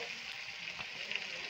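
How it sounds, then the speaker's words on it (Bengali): Chopped onions fry in oil with whole garam masala, cumin and bay leaf, a steady soft sizzle and hiss that stays even throughout, with a faint clink near the end. "এবার পেঁয়াজটা ভালো করে ভেজে নেব"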